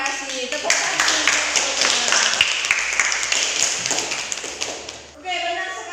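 A classroom full of students gives a burst of brisk applause during a physics lesson, dense and close clapping that runs for several seconds before trailing off as a voice begins.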